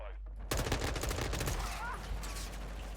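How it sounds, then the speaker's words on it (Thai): Rapid gunfire from Call of Duty: Modern Warfare II, a dense burst of loud shots that starts abruptly after a brief quiet moment and continues steadily for several seconds with game ambience beneath it. "เปลี่ยนปืนแล้วครับยิงไปเปลี่ยนไปเลย"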